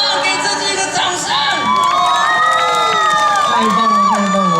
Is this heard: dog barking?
no